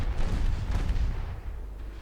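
Naval gunfire in a naval war video game set in a 1954 Norwegian campaign, with J-48 destroyers firing their guns: a dense run of deep booming shots and rumble that stays loud throughout, with no voices over it.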